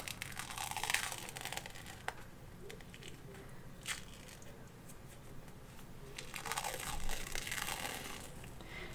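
A dried face mask is peeled slowly off the skin, giving a faint, close crinkling and tearing rasp in uneven bursts that grows louder toward the end.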